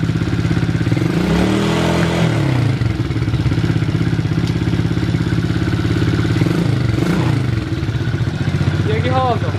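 A 110/125 cc quad's engine runs steadily and loudly up close, a throbbing, slightly clattering idle with small shifts in pitch and a brief voice partway through.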